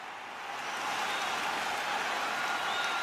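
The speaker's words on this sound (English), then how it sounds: "They're cheering. They're excited. We've got a live audience waiting for us" A game crowd in Fall Guys cheers and applauds, a broad, even wash of clapping that swells in after a moment and holds steady, moderately loud with no talk over it.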